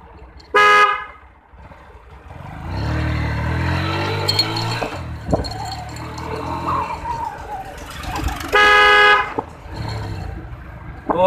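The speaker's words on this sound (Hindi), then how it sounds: "तो ये मेरे हॉर्न की साउंड थी" A Kawasaki Caliber motorcycle horn honks in two short, loud blasts, one near the start and one later, with engine and traffic noise rumbling between them.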